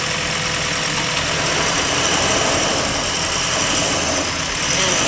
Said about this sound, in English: So now we have the tractor pulling the truck out,